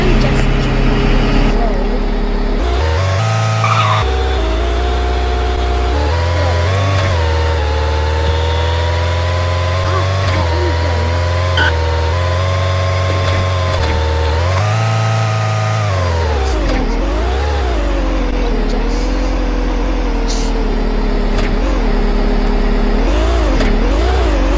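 A broken-down car's engine running and revving on a dusty roadside during a vacation trip, a loud sustained drone with rising and falling pitch sweeps, heard alongside background chatter.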